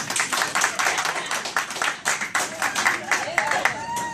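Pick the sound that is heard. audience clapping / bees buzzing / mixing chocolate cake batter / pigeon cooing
audience clapping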